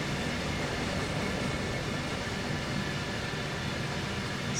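A loaded coal train climbs uphill with helper locomotives pushing at the rear in the Run 8 train simulator, a steady, dense rumble of working engines and rolling cars without talk.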